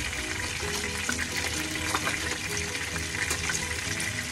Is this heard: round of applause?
no